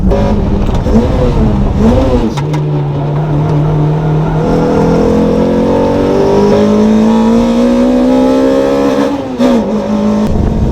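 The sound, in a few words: race cars accelerating at track day, 2ZZ-swapped Toyota MR2 Spyder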